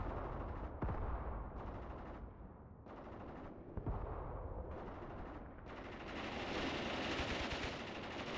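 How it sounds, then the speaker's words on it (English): Machine guns rattle in bursts during a WW2 battle in the war game Mius Front, with sustained fire broken by short pauses and a dense volley near the end, loud and continuous with no speech. "Machine guns are firing nicely as I want them to."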